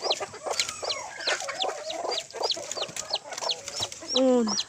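A Rhode Island Red hen with a chick clucks and murmurs nearby among other chicken calls, with a few sharper squawks near the end.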